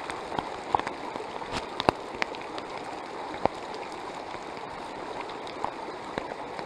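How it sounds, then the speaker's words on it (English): Hail patters steadily outdoors in the High Uintas mountains, a dense hiss of small impacts with scattered sharper hits throughout, with no voices. "Comes the hail."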